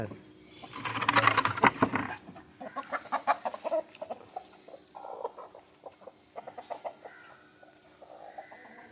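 Native country chickens cluck and squawk in a rapid burst, then settle into scattered, irregular clucks with a faint steady hum in the background.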